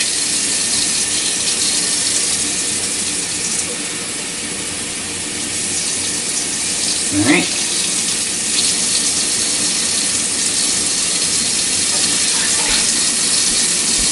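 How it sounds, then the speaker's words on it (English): Tap water runs into a glass measuring cup in a home kitchen while bread is being made, a loud steady gush filling the cup for many seconds, with a brief spoken remark partway through. "That's my cup of water getting poured in."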